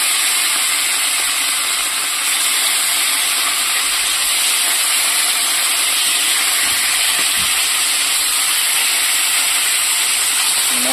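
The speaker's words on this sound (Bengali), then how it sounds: "মাছ ভাজার জন্য তেল গরম হয়ে গেছে" Rohu fish pieces rubbed with salt and turmeric frying in hot oil in a home kitchen, a steady loud broadband sizzle and hiss running unbroken and close.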